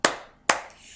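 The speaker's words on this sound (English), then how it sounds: "If you're happy and you know it, clap your hands." Two sharp hand claps about half a second apart, loud and close, from an audience clapping along to a children's singalong song at a story time session; no voices over them.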